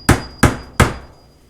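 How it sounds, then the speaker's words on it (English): A hammer knocks a tough multi-tool pry bar into place during drywall installation, with three sharp, close metallic strikes evenly spaced about a third of a second apart. "I'll just knock this in with the hammer"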